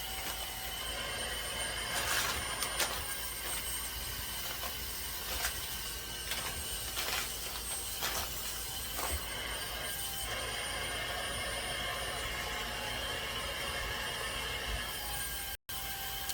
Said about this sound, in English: just using my vacuum to suck the rest of the air out